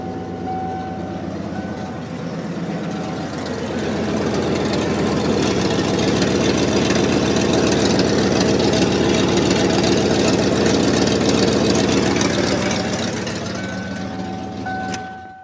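A 1994 Ford F350 dually truck engine idles steadily with a low, rumbling, somewhat loud drone that swells slightly in the middle and holds for about fifteen seconds, with no talking.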